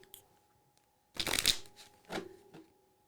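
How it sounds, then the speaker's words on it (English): A deck of playing cards gets a quick shuffle: a sharp riffling burst followed by a couple of softer flicks, close by and quiet otherwise, with no speech. "We're going to do a quick shuffle."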